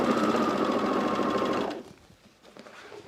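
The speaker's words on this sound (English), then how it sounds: "All right, so I'm doing this side seam." A sewing machine runs in one continuous, fast, even whir while stitching the side seam of a pair of Zen pants, then stops and leaves a quiet room with faint handling sounds.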